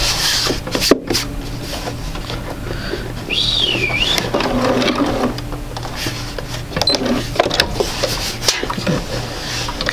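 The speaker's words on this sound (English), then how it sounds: "we're just going to match it right up to that point and go ahead and sew again" A sewing machine stitching fabric at a home sewing table, a steady low whirring hum running throughout with light mechanical clicks and rubbing handling noises, close and moderately loud, with a short whistle-like squeak partway through.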